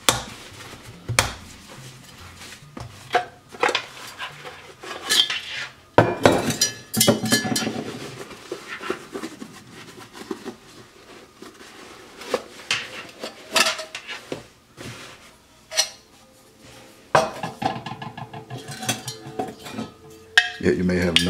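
A rare 1942 U.S. military canteen, black rather than aluminum, being taken out of its canvas cover, with scattered metallic knocks, clinks and rustling handling noises, louder thumps now and then, and some speech mixed in.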